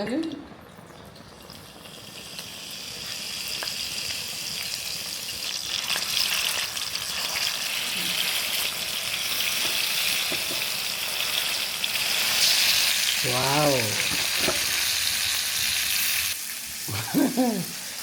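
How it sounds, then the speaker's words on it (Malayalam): Fish frying in hot oil in a home kitchen during lunch preparation gives a steady, close sizzle that runs through the whole stretch, with a brief exclamation and laughter near the end. "നമുക്ക് മീൻ വറക്കാം ആ ചൂടായിട്ട് എണ്ണ ഒഴിക്കാം"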